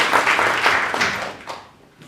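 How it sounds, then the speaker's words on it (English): Crowd at a poetry slam festival claps for a performer, a lively burst of hand-clapping that holds briefly and then tapers off, with a faint voice near the end. "Round of applause for Genevieve, yeah."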